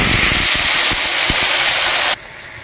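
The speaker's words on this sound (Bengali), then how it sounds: "অল্প একটু তেল নিচ্ছি, মাশরুমটা ভেজে নেব।" Mushrooms sizzle in a little oil in a pan, giving a loud, steady hiss with faint crackles that stops suddenly near the end, with no talk over it.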